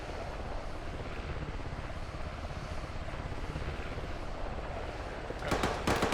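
A Blackhawk helicopter roars continuously during a field training exercise. The rotor and engine noise is loud and steady, with a rougher, thumping burst near the end.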